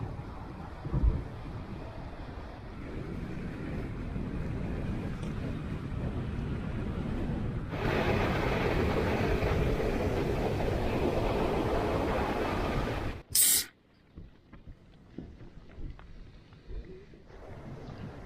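Strong gusts of wind roar across the Scottish Highlands near a coastal bay, buffeting loudly and steadily for several seconds before an abrupt burst and a drop to a quieter, intermittent rush.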